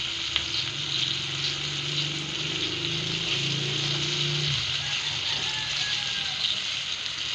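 Steady, loud sizzling of food frying in a pan fills the whole stretch, with a low hum running underneath for the first half.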